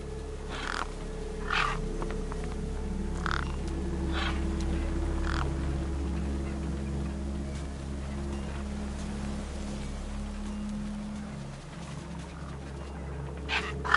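Crows caw in a video game set in a bleak future city, gathered over their feast; harsh calls recur every second or so against a steady low hum of machinery and ambient drone.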